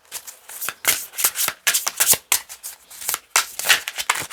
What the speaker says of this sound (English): can I have a nice shuffle?